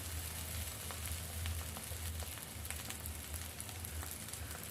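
Steady oil sizzle and crackle of stuffed parwal (pointed gourd) frying with spices in a pan, a continuous soft hiss with small pops, fairly quiet and close, no voices.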